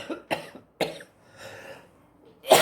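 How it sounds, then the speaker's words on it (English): A woman suffering from hay fever coughs in a fit: several sharp, close coughs in quick succession, a short pause with a throaty breath, then one more harsh cough. "I had a little bit of a coughing fit there."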